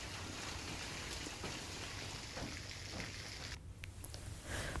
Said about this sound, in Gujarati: સુરત શહેરમાં પણ ધોધમાર વરસાદ આજે શરૂ થયો છે।